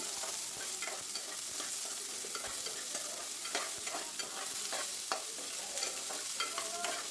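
Chopped onions fry in oil with cumin seeds, mustard seeds and urad dal for an egg curry, a constant close sizzle broken by frequent scraping stirs of a spoon against the pan.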